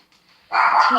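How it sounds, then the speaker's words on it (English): One loud, close dog bark bursts out abruptly after a brief near-silent pause. "sorry, that's my dog."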